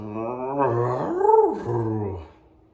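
A voice imitates a dog's bark and growl with a drawn-out, rising and falling vocal sound, close and fairly loud, then tapering off.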